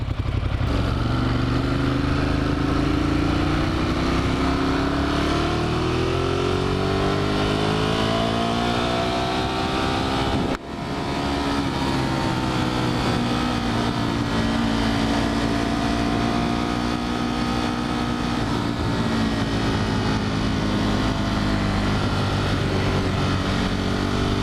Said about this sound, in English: To redline it. There we are, redline.